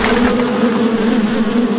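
Loud, steady buzzing of a swarm of bees pouring from a beehive in a video game, a dense continuous drone filling the whole stretch with no voices.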